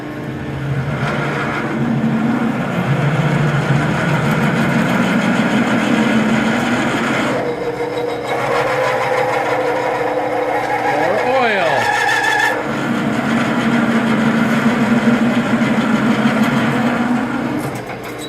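A metal lathe runs while drilling a hole, set to the vertical setting with oil added, giving a continuous mechanical hum with tonal whines that rise and shift, and brief sweeping pitch changes as the drill works in.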